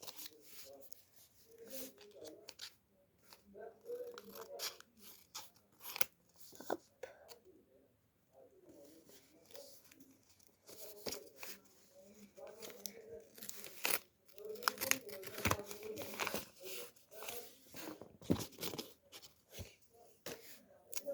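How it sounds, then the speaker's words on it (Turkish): School supply packages being opened by hand, with bursts of tearing, crinkling packaging and rustling paper that come and go over about twenty seconds, close and soft, with a few quiet pauses between handling. "Şimdi son paketimizi açalım."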